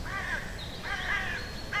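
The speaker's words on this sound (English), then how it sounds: "They're not wonderful, they're crows." Crows caw in three harsh, rasping calls spaced evenly over steady background hiss, with no one speaking.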